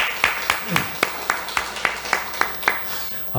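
A church congregation at a Sunday service claps to welcome newcomers, heard as a steady series of about a dozen evenly spaced hand claps, moderately loud and close.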